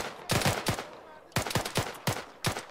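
Gunfire in Arma 3 during a PvP Zeus operation, rapid bursts of loud sharp shots in clustered volleys with brief pauses between them, no talking.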